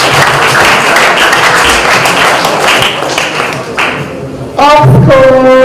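A room of people gives a sustained round of applause for a student at a CSAE homecoming presentation. The dense clapping runs for about four and a half seconds before a voice begins speaking over it.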